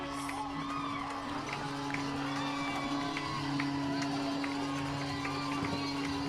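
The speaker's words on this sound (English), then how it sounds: "The crowd here at Vintage Throne Stadium on their feet to salute the Barrie Baycats" A baseball crowd at Vintage Throne Stadium rises to cheer the Barrie Baycats clinching the series, a steady roar of applause and shouts from the stands under a commentator's voice.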